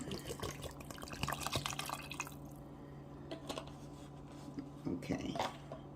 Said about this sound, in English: I'll be putting in 8 ounces of water.